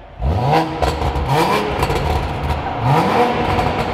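A 2020 Toyota Supra with an FI aftermarket exhaust revs in a quiet valve mode, giving a few rising engine pulls close by with a steady burbling idle between them and no talk.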